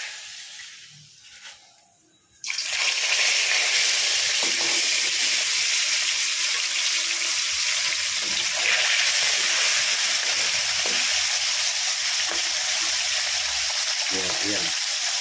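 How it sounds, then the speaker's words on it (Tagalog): Tilapia hitting hot cooking oil bursts into a loud, steady broadband sizzle after a quieter opening couple of seconds, then frying continuously with small pops and crackles. "dahil mainit na yung mantika natin, tayo po ay maglalagay na ng tilapia"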